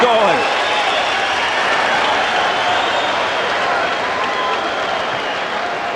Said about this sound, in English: And he gets the crowd going.